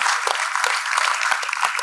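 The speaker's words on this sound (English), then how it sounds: "loud applause, please" Convocation audience applauding a graduating PGDM batch, a continuous, full wash of many hands clapping throughout at steady volume.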